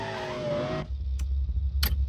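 A powerful rear-wheel-drive car in a driving video game, run without an exhaust, first gives a high revving engine whine, then drops into a loud low rumble with sharp skid-like scrapes.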